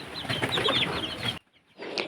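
A flock of large chickens clucks and chatters busily as they are fed a mash of rice bran, husk and rice, dense overlapping calls close by that cut off abruptly, then resume after a short gap.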